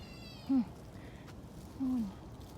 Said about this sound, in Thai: เมื่อก่อนเนี่ยได้ยินเสียงนกแบบนี้นึกว่าลูกแมว